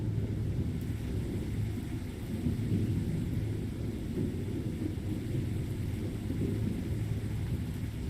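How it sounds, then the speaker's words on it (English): Rain and thunder in the video game Signal Simulator, a steady low rumbling storm wash with heavy rainfall noise, fairly quiet and continuous with no voices. "What the hell is that sound? Oh, that's rain."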